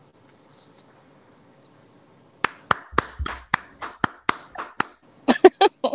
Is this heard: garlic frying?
no